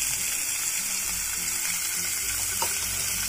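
A medium onion frying in hot oil after tempering, for a semolina breakfast dish: an even, continuous hissing sizzle held close throughout, with no voices.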